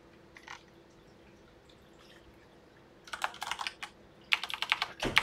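Computer keyboard typing in two bursts of rapid, close keystrokes, with quiet gaps in between and a faint steady hum underneath; no one speaks.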